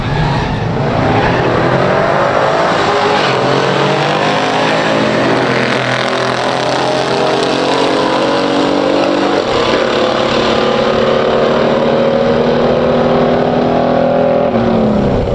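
Two muscle cars, a 1968 Hurst/Olds and a 1969 Chevelle SS, in a pure stock heads-up drag race, their engines roaring loudly and steadily throughout with rising, droning exhaust tones and no talk.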